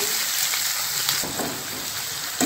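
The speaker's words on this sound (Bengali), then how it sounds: "এবারে আমি পেঁয়াজটা তেলে দিয়ে দেব। পেঁয়াজটা প্রথমে ভেজে নেব।" Chopped onions fry in hot oil over high flame, giving a loud continuous crackling hiss with small pops near the end.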